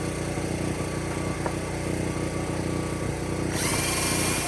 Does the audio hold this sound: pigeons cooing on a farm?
no